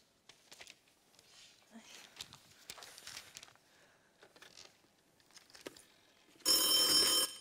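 A telephone rings loudly on a theatre stage during a Cantonese musical production, a sustained electronic ring bursting in near the end after soft rustling and movement noises.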